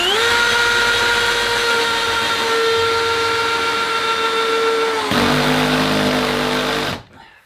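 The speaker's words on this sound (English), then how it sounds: "The floorboards are screwed into the T&G jointing so that the screws are not visible in the final floor." A power screwdriver drives screws into tongue-and-groove floorboards, a loud sustained whirring motor whine that shifts pitch partway through before cutting off abruptly at the end.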